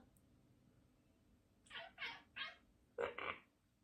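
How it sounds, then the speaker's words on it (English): A cat meows several times in short, close bursts after a quiet stretch, the last two calls coming quickly together. "Sorry, that's my cat."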